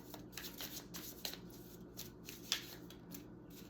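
Tarot cards, in this case an animal spirit deck, shuffled and handled close up, a continuous papery riffling with a few sharper snaps and flicks, quiet and with no one talking.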